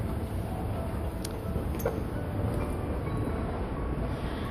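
A commuter subway train near Sangdong Station in Bucheon runs with a continuous dense rumble and a steady high whine, a few faint metallic clicks over the top, and no voices.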